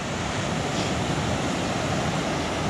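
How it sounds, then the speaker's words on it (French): The Waipusi waterfall in New Caledonia roars in a loud, continuous broadband rush of falling water that fills the whole scene without a break. "La Waipusi, la cascade de la Waipusi."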